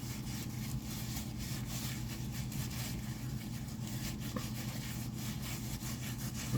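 Salt is rubbed by hand over raw potatoes for baked potatoes, a steady close-up scratchy friction that runs continuously without a break and with no talking.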